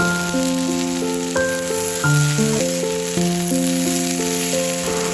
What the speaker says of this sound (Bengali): শুধু এখানে ভাজাটা করে নিচ্ছি এটা আর কি কুদরি আলু ভাজা